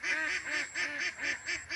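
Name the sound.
ducks calling on a pond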